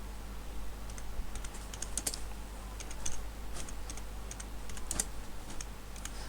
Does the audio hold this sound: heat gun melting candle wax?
no